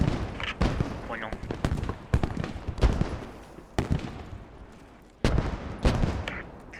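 Gunfire in the video game Post Scriptum: repeated sharp shots crack out near and far in irregular bursts, under squad members talking over radio.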